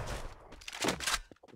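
A single gunshot in a multiplayer shooting video game: one sharp, loud, close burst that rings briefly and then drops away, with no other shots following.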